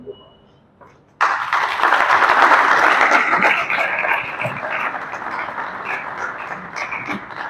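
Audience applause at a student lecture fills the room after a short quiet lead-in, starting abruptly, loud and sustained, then easing slightly while continuing steadily to the end.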